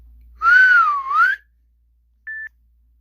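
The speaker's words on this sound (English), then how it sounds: "As Lucifer would whistle." A person whistles a short melodic phrase, rising then dipping and rising again over about a second, followed after a pause by a brief single steady note, clear and close with nothing else around.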